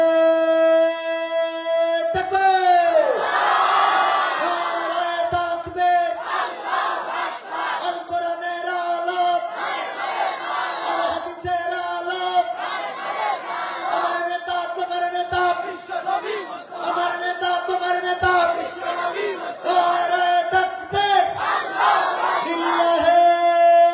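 A large crowd at an outdoor religious sermon chants slogans in unison, loud rhythmic massed voices repeating short phrases for the whole stretch, answering a preacher's call through a booming public address system.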